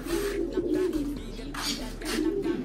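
Caged pigeons coo in low, rolling, repeated murmurs that overlap steadily throughout, close and moderately loud, with no talking.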